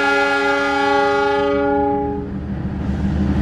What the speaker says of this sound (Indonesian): Tapi yang jelas ini kereta api KLB.